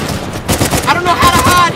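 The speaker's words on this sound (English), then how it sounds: "Shots fired!" Rapid gunfire in Uncharted: The Lost Legacy, a burst of close shots repeating in quick succession while a voice shouts over the action.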